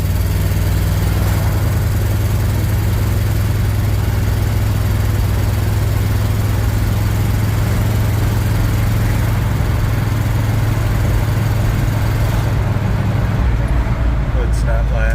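A 1975 Chevrolet K5 Blazer engine pulling in second gear, a loud continuous low rumble and drone from inside the moving vehicle, with road and wind noise and no speech.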